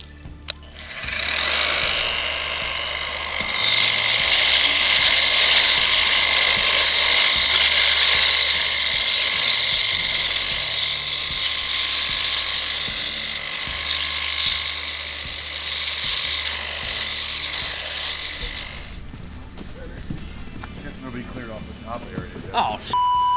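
A wet grinder fitted with a 60-grit abrasive grinds the top layer off a concrete countertop to expose the aggregate. It gives a loud, steady mechanical whine with tonal overtones for about seventeen seconds, then cuts off.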